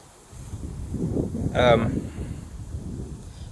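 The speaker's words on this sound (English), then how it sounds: "Sorry about the wind, it's a little bit windy today." Low rumbling wind buffeting a microphone, swelling and gusting briefly in the middle, with muffled low noise throughout.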